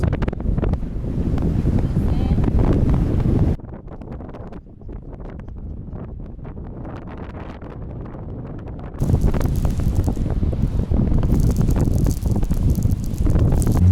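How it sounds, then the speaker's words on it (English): Strong wind on Namibia's Skeleton Coast buffets the microphone in a loud, continuous roar, easing slightly in the middle before gusting hard again. "Super windy."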